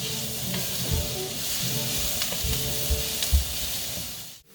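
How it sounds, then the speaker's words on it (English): Onions and peppers sizzle loudly in a hot pan on high heat for shrimp fajitas, a steady close hiss of frying with occasional soft knocks of stirring, no voices. "we're going to go ahead and toss in those onions with the peppers"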